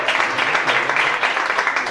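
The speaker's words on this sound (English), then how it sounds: "Give them a big round of applause" A crowd applauds a band at a Ballyfermot heritage celebration marking their 25 years of playing, producing a short, loud, steady burst of dense clapping.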